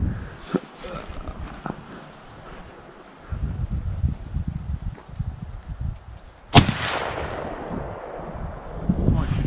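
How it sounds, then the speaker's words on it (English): A Remington V3 shotgun fires one loud, sharp shot outdoors amid heavy wind noise buffeting the microphone. "we're gonna shoot with the Remington V3 again"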